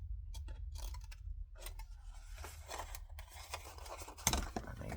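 Quiet snipping of sharp-point scissors through paper in short bursts, close by, over a low steady hum, while making scrapbook pockets.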